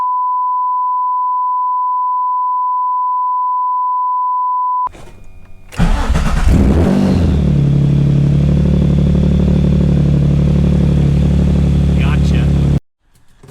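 A Nissan 350Z with a VQ engine cranks and fires up after a long steady test tone, then settles into a loud, close, sustained idle with deep rumble that holds for several seconds before cutting off.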